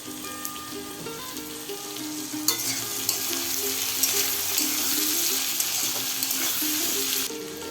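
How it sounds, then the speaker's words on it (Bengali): Cut potatoes fry in a pan with onion, turmeric and salt for a country chicken curry, giving a steady close sizzle that swells louder after a few seconds, mixed with stirring and scraping, no talk. "পেঁয়াজটা কিছুক্ষণ ভাজা হয়ে আসার পর কেটে রাখা আলু দিয়ে দেব"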